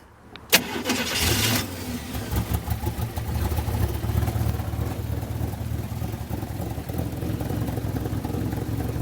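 A rat rod car's engine cranks and catches after a sharp click, then settles into a steady, loud, rumbling run close by, with no one talking.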